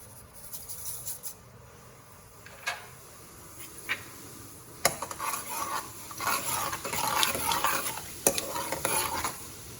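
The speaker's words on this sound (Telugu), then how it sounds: "ఆయిల్ వేడెక్కింది, ఆవాలు జీలకర్ర వేసేద్దాం." Mustard seeds and cumin hit hot oil in a kadai for a bitter gourd gravy. Soft stirring scrapes come first, then a steady crackling sizzle swells with sharp pops, close and fairly quiet, with no talking.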